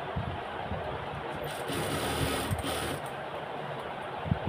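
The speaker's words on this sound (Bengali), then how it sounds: "এখানে আমি এখন সুন্দর করে বসিয়ে সেলাই দেব।" Sewing machine stitching lace onto a salwar, a steady low mechanical whir running throughout at close range, with faint background noise.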